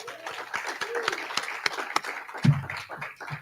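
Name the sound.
audience applause for speaker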